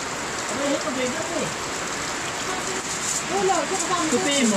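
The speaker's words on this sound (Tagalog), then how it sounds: "Malakas po ang ulan" Heavy rain pours down in a steady hiss outside during home cooking, continuous throughout, while people talk over it.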